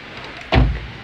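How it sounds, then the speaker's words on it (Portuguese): A car door on a Mopar-alarmed vehicle slams shut once, a single loud, close thud with a brief low rumble after it. "Fechar a porta aqui"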